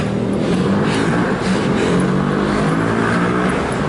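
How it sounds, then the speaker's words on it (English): Steady road traffic near a bridge, a continuous dense rumble of passing cars with a broad roar held at constant loudness throughout, no pauses or distinct single passes. "Constantly have to compete with the traffic noise, of course"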